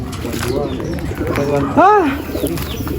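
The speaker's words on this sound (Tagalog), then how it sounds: "I-highlights natin yung arrival ng mga ibon dito ni Sir Ralph." Pigeons coo nearby, soft rounded calls repeating over a busy outdoor background, with one clear louder coo in the middle.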